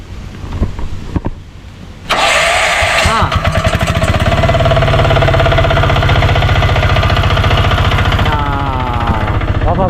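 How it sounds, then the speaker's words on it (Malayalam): An auto-rickshaw engine runs loudly and close with a rough, rapid knocking rattle near the silencer. It starts up after a few seconds of background noise and keeps running steadily, with voices talking over it. "ഇവിടെ നിന്ന് എങ്ങനെയാണ് ആ സൗണ്ട് വരുന്നത്? സൈലൻസർ ഭാഗത്തുനിന്ന്."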